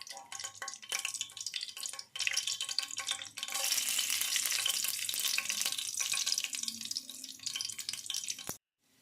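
Whole spices and bay leaf frying in hot oil for chicken biryani, a loud crackling sizzle that swells after a brief dip, with spatters and stirring, then stops abruptly near the end.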